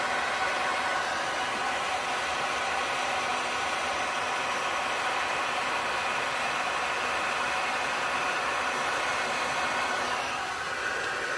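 A heat gun blows a steady, even hiss of hot air onto epoxy on a tumbler. The sound is continuous and uniform and eases slightly near the end.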